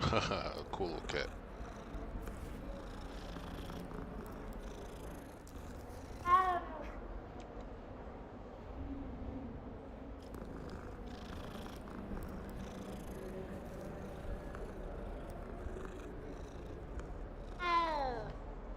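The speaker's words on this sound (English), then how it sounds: "Cool little cat." A cat in the Hogwarts Legacy video game purrs steadily beneath background game ambience, breaking into a couple of short, clear meows, one midway and one near the end.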